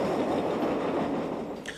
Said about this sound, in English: Most services are in the hands of these French-built 1200 class diesels